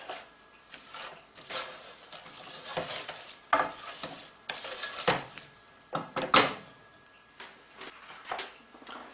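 Ground almonds stirred into a Bakewell tart filling mixture in a bowl, with irregular scraping and knocking of the spoon against the bowl, close and uneven in rhythm.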